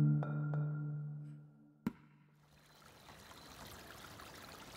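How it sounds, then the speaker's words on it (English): Spring water running beneath an old stone row on a ridge near Mount Ascutney, Vermont. A soft, steady trickle fills the second half, following a brief tonal hum and a single sharp tap. "Water runs beneath it from a spring above."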